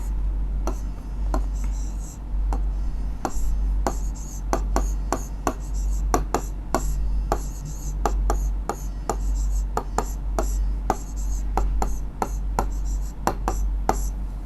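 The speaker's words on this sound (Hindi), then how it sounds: "हम सभी के आगे लिख देते हैं।" During a class 9 Sanskrit grammar lesson, a pen or chalk writes on paper or a board, giving many short, crisp taps and strokes in an irregular rhythm over a steady low hum.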